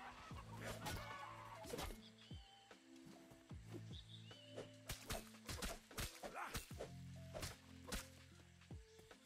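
A chicken in the survival game ATLAS clucks repeatedly in short choppy bursts, with sharp whacking hits scattered among the calls, all fairly close.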